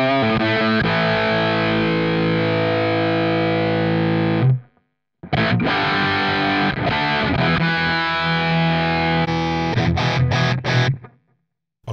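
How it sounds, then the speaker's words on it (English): Electric guitar played through a NUX Trident pedal's 1987 50-watt Marshall amp emulation with boost engaged, thick distorted chords ringing out, a brief silent gap, then more driven strums and choppy stabs before cutting off. "Let's try a 1987 50 watt Marshall. Boost is off. And let's put the boost on."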